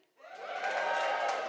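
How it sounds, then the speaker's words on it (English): A live comedy audience in Australia cheers and whoops, the crowd noise swelling quickly from silence into a sustained burst of mixed shouts. "Who's vaccinated? Give us a cheer."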